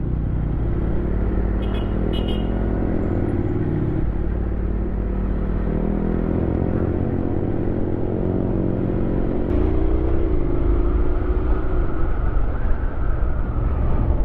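Road traffic surrounds a rider on a Honda X-ADV 750 scooter: a constant low engine rumble and droning vehicle noise with shifting pitch, and a couple of brief high beeps early on, with no talking.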